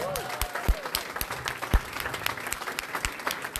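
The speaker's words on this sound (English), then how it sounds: "Let's give a round of applause" Scattered applause from a small crowd at an outdoor ribbon cutting for a downtown independent living center, irregular claps with a few louder close ones and some voices underneath.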